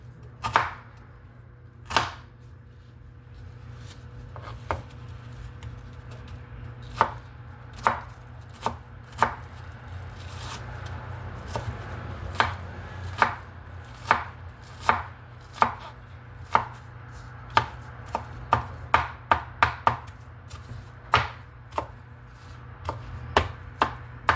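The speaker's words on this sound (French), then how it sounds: "Tu essaies de le découper en petits carrés, en petites parties." A knife chops a banana into small squares on a board, with sharp isolated knocks that come slowly and unevenly at first, then grow quicker and denser toward the end, heard clearly over a quiet background.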